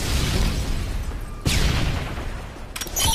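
A frag grenade explodes during a Call of Duty: Modern Warfare 3 multiplayer match: one sharp, loud boom cuts through a constant wash of game noise and gunfire, followed by more crackling bursts near the end.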